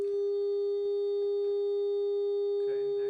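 A steady pure sine tone plays through a speaker with a plate of loose sand bolted on top, holding one even pitch throughout, with a faint voice coming in near the end.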